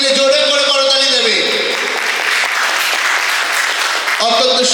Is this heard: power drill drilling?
no